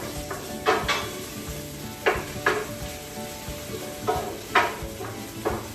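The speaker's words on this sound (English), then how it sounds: "Garlic is going on. I'm adding my tomatoes." Garlic and tomatoes fry in a pan with a low continuous sizzle, broken by repeated sharp clatters and scrapes of stirring every second or so, close by and without speech.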